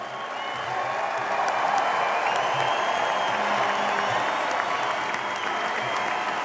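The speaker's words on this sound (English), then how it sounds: "give the Monterrey Flash a round of applause" Crowd applause in an indoor arena after the MASL Ron Newman Cup championship game, Milwaukee Wave vs Monterrey Flash: a broad sustained roar of clapping and cheering that holds evenly throughout.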